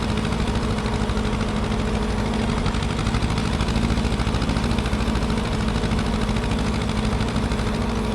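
Small tractor engine idling in Farming Simulator 25, a steady, even rumble that holds at one level the whole time, with no talking.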